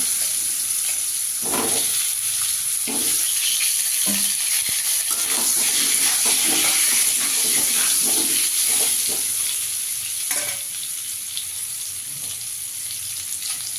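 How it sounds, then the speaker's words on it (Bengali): Potato pieces fry in hot oil for a chicken dak bungalow dish, giving a loud, steady sizzle with occasional bursts of spatter and stirring throughout. "এবার এই তেলে আমি আলুটা ভেজে নেব।"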